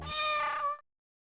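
A cat gives a single clear, tonal meow lasting under a second, close and loud, then cuts off into silence.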